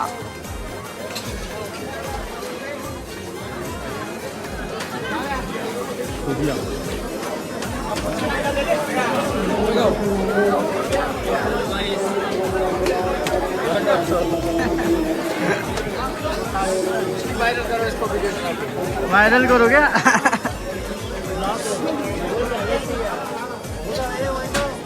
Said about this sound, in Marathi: हा गर्दी बघते इथं भंडारा खायला